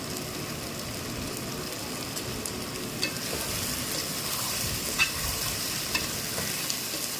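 Ginger-shallot paste and curry leaves fry in hot oil for gongura chicken, a constant close sizzle broken by a few sharp clinks of stirring.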